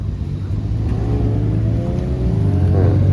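A GTI's engine at a Johannesburg car meet holds a steady, close, throaty drone, then revs upward near the end.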